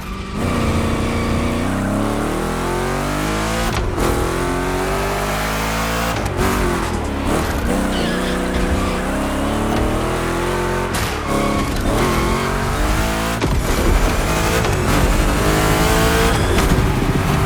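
Race car engine in The Crew Motorfest racing game, loud and continuous, revving up and dropping sharply at gear shifts every few seconds on a lap, with no voices.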